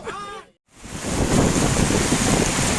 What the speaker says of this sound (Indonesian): Hujan badai guys, hujan badai.